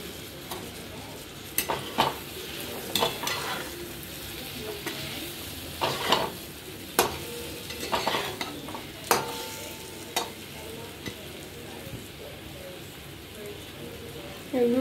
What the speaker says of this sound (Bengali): এবার আমি এতে ডিমগুলো দিয়ে দেব।